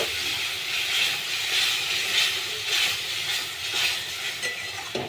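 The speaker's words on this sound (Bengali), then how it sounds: "আমি গরম জল দিয়ে দিলাম।" Hot water poured into a pan of fish curry cooking with mustard paste, giving a steady loud hiss and sizzle of steam that holds throughout with gentle surges, no voices present.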